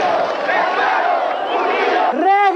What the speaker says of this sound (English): The crowd responds with taunts and chants of solidarity